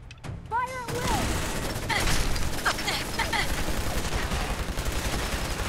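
Dense, sustained gunfire in Fallout 4 fills the scene: a near, loud fusillade of rapid shots and mechanical clatter, with a brief chirping sound at the start and a voice in the battle.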